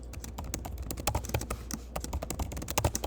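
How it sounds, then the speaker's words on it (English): Fast typing on a computer keyboard, close and continuous, with dense irregular clacks and a few heavier key strikes and no voices. "I'm typing that, and the camera can record this."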